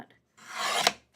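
Card paper for a Mother's Day card is trimmed in one quick slicing stroke, a short soft scrape that ends with a tiny snap, close and quiet.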